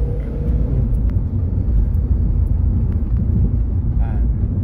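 A Suzuki car with a rough idle has its engine revved, a loud continuous low rumbling drone that stays steady and close, with talk over it.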